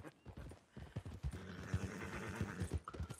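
Horse in Red Dead Redemption 2 neighing and clopping its hooves in town, a close, busy burst of whinnies over rhythmic hoofbeats.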